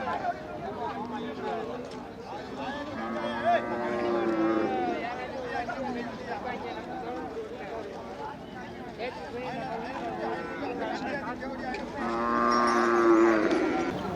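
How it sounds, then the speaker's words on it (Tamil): A Kangayam bull lows repeatedly at the Manapparai cattle market, its deep drawn-out moos rising over a busy crowd of talking traders and buyers. "நல்ல காளையாண்ணா இது காளை சூப்பர் மாடு"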